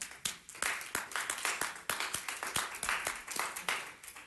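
People at a police commission meeting clap their hands in a loose, fairly regular rhythm of distinct individual claps, close by and moderately loud, with no speech over it.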